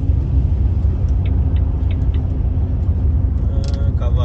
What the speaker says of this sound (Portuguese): Já tem outro ultrapassando.